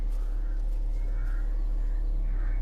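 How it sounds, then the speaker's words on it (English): Faint bird calls in the English countryside of the video game Everybody's Gone to the Rapture, a few soft distant chirps over a steady low ambient hum. "There's birds."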